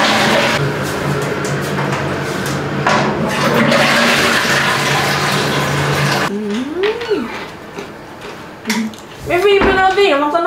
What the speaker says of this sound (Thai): แม่บอกให้กดชักโครกทุกครั้ง